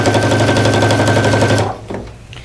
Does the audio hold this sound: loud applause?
no